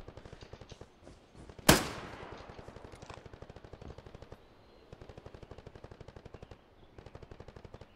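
Sustained, rhythmic machine gun fire in Hell Let Loose, steady rapid bursts running nearly the whole time with a brief pause, punctuated by one loud, sharp blast early on.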